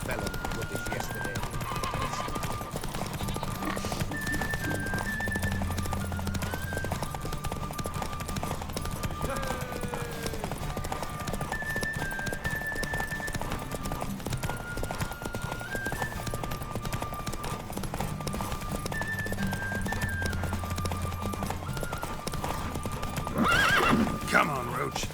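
Horse hooves clip-clop steadily at a walking pace with occasional whinnies in The Witcher 3 video game, the mix of footfalls, ambient game sound and a brief louder burst near the end staying at moderate level.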